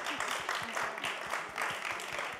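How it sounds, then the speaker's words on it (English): An audience applauds at a late-night studio talk show, a steady wash of clapping from a crowd that continues throughout. "Warm applause."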